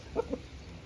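Aseel breed rooster giving two short, faint clucks close together over a quiet background.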